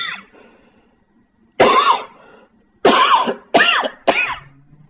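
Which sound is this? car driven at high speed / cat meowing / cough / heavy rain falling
cough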